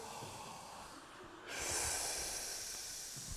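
A deep, slow breath drawn in by singers during a choir vocal warm-up, heard as a broad, airy rush that swells halfway through and holds steady, close and fairly quiet, with no talking.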